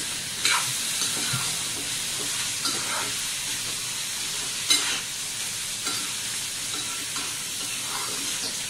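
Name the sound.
tondli (ivy gourd) being stir-fried in a pan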